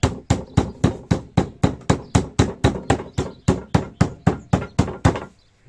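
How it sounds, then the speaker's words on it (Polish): A steady run of about eighteen sharp, evenly spaced thuds, a pork cutlet pounded on a board with a makeshift mallet, loud and close, then silence. "rozbijamy naszego kotleta."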